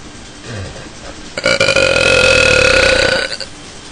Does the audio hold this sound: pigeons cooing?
no